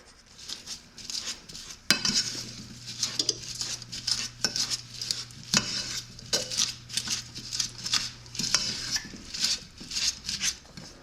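Tart ingredients being mashed together in a small bowl, with steady scraping and clinking of a utensil against the dish and a few sharper knocks, close and fairly quiet, with no talking.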